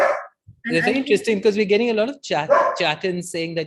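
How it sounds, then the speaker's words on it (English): A dog barks in short, repeated bursts close to the microphone, overlapping a person talking during an online spiritual leadership conclave. "sorry about my dog"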